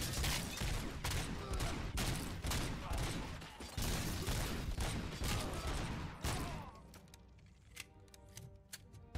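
Rapid bursts from a micro SMG in RoboCop: Rogue City crackle in dense, loud volleys for several seconds, then give way to quieter mechanical clicks and tonal game effects.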